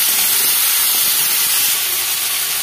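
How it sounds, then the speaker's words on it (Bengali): Yardlong beans and potato pieces frying in a pan with salt and turmeric, giving a steady, loud, close hiss of sizzling oil that holds evenly throughout with no voices. "আর হলুদ দিয়ে আমি বরবটি আলুটাকে ভেজে নেব ভালো করে।"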